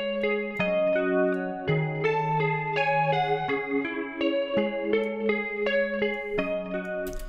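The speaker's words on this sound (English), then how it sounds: "Just adds a lot of ambience and reverb and also chorus just to make it sound cooler." Clean electric guitar chords and picked notes with a shimmering chorus and spacious reverb, played steadily and up close with no voices.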